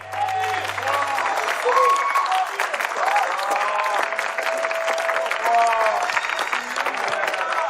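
An audience claps through a stage performance by a vocal group, with loud, continuous applause mixed with voices and bright tonal sound.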